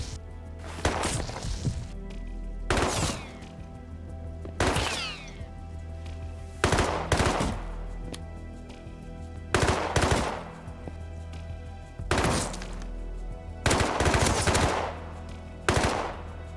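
Repeated bursts of automatic gunfire in a shooter video game set on an icy lake, arriving in short rapid volleys roughly every one to two seconds over a steady low game hum, loud and close, with no talk.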